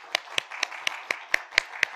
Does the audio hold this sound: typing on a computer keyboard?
no